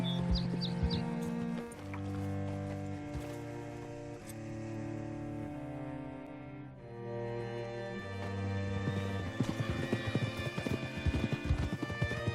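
Horse hooves clip-clop at a walk in the video game Red Dead Redemption 2, a close, even rhythm of hoofbeats beneath a melodic game score, with a brief whinny and some birdsong.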